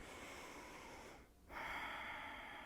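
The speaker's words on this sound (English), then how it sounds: "Close your eyes. Breathe." Slow, audible breaths during a yoga session: a long exhale, a brief pause, then a deeper inhale, close and soft against quiet background hiss.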